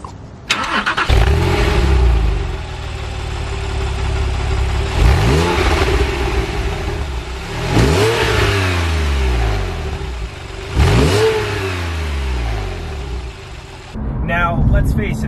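A Porsche 911 sports car with 385 horsepower starts and revs repeatedly, with several sharp throttle blips that swell and fall back to idle, loud and close, and talking in between.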